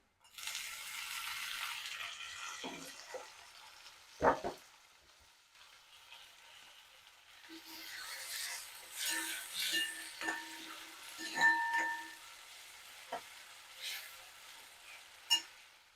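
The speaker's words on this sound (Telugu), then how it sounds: "అల్లం పేస్ట్ కొంచెం స్మెల్ అంటే పచ్చి వాసన పోయేదాకా ఉంచేసుకొని మనం టమాటాలు వేసేసుకున్నాము" Tomatoes and ginger paste fry in a pan with a soft, steady sizzle, broken by a sharp clatter and several scraping stirs, all at a low volume close by.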